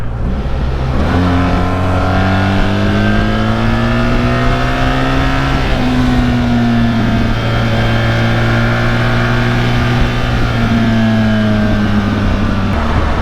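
BMW 1300 GSA motorcycle engine riding steadily, with audible gear shifts as the pitch of the drone steps and glides up and down; loud and close, no talk.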